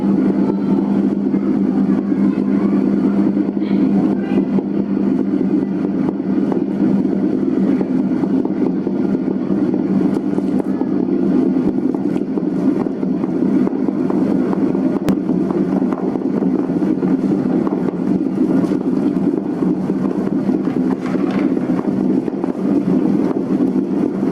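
A dough mixer machine kneading bakpao dough hums on in a steady, continuous drone at close range, unbroken from start to end with no speech.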